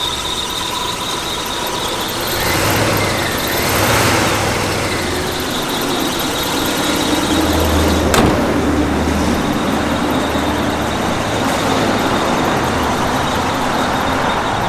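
A 1980 Chevrolet Malibu Classic runs steadily, its engine droning loud and close with a continuous high squeal layered over the low idle, and a brief sharp click partway through.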